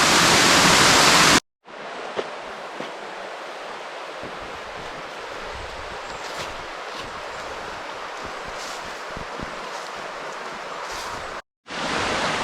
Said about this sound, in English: We got another waterfall here.